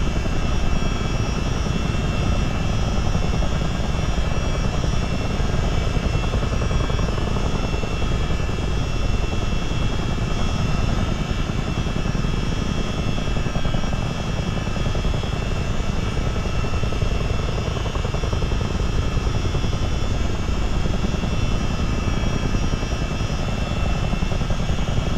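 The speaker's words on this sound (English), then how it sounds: "The helicopter." CH-47D Chinook helicopter rotor and engines, a dense, continuous loud roar with a steady turbine whine and rotor throb running unchanged for the whole stretch, with no voices.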